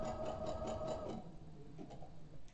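A sewing machine stitches a single layer of fabric during machine couching, a quiet, fast rhythmic whir that runs for about a second before tapering into faint mechanical clicks.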